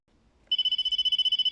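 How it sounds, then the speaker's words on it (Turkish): Telephone ringing loudly and close, a rapid pulsing electronic trill that starts abruptly after a quiet moment and keeps going, with no voices over it. "Ay telefon çaldı."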